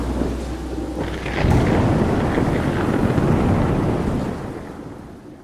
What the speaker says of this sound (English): when the rain began to pour and the winds picked up